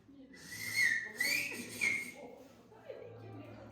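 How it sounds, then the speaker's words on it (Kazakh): A person whistling a tune at a reunion gathering, a few clear sustained whistled notes rising over murmuring voices and room chatter, then fading under talk. "Сіздікі күшті анау музыканы ысқырады."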